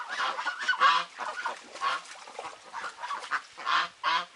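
Geese honk repeatedly while bathing in a backyard pool, a run of loud, close, nasal calls in uneven bursts, some overlapping, with no talking.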